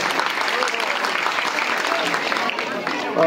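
Steady, dense applause from a crowd at a ceremony honouring a retired soldier, continuous clapping that holds at an even level throughout.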